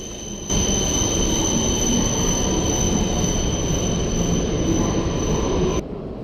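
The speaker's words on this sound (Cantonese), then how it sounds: "今日我哋由仙台出發，坐子彈火車去岩手嘅一關。" Inside a Japanese Shinkansen bullet train running from Sendai toward Ichinoseki in Iwate, a loud, steady rushing rumble of wheels and air fills the cabin without a break.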